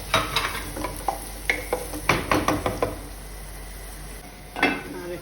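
Onions frying in a little oil in a pan, with a low sizzle under a run of irregular stirring scrapes and clinks from a utensil against the cookware, and no talk.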